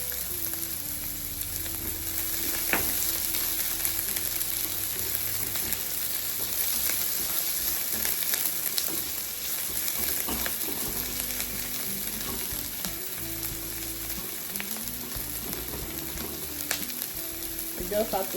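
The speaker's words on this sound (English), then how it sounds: "You just have to saute the onions to bring out the sugar from the onions before we add the tomatoes." Onions sautéing in a pan as the base for a fish pasta sauce give a steady, close sizzle with soft stirring, and a continuous crackle runs through the whole stretch with no talking.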